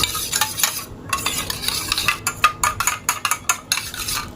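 Chili flakes are mixed by hand in a bowl while making homemade pizza. Close, rhythmic scraping and stirring strokes grow quicker toward the end, with no talking.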